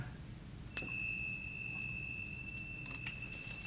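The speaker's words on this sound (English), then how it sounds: "and a bell tree, which go like this" Finger cymbals and a bell tree struck once, giving a bright metallic ding with sustained high ringing overtones that linger and slowly fade over a low background hum, with a faint second tap later.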